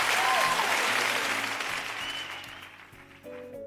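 Conference audience at Nigeria Fintech Week 2025 applauds loudly, the clapping gradually thinning and fading while background music continues and swells near the end.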